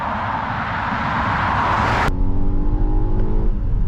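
A Volvo XC90 engine runs steadily at speed with road and wind noise, then settles into a lower, rumbling drone as it keeps pulling along.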